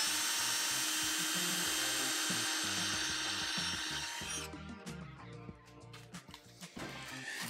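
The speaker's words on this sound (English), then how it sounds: "Now I'm just gonna pre-drill in these holes that are already in the vent." A power drill pre-drills screw holes through existing holes in a custom wall vent on a teardrop camper, a loud steady whine for about four seconds, then stopping into scattered rubbing and tapping sounds.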